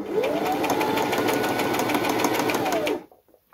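A sewing machine stitches around the rounded corner of a fabric face mask, a steady fast mechanical whirr running loud and close for about three seconds before stopping abruptly.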